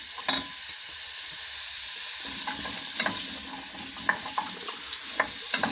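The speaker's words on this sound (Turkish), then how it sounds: "pırasalarımı, havucumu şöyle bir kavuruyorum önce" Carrots and leeks sizzle and hiss steadily in a hot pot on the stove, with occasional scraping clicks from stirring close by.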